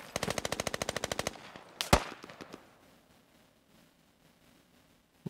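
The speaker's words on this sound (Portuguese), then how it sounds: "Você sente que tá atirando mesmo." An automatic weapon fires a rapid burst of about a dozen rounds in the military shooter game Squad, then a single loud shot, followed by fainter scattered distant gunfire, with no voices.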